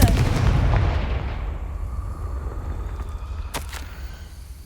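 A Confringo fire spell blast in Hogwarts Legacy, a loud booming explosion at the start that rumbles and decays over a few seconds, with a couple of sharp crackling pops near the end.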